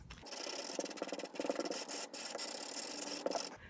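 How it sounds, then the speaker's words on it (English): Sandpaper rasps along the edge of cut paper shapes for a mixed media card. The rubbing strokes are close, steady and continuous, with short breaks between passes and no talking. "you're going to have to kind of get onto the edge of the paper with your sanding"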